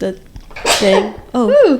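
A single sharp sneeze bursts out in the middle of casual conversation on a game-themed podcast, with voices talking just before and a brief spoken reaction right after it.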